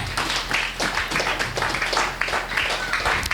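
Church congregation applauding, many hands clapping in a dense, irregular patter of moderate loudness that holds steady throughout.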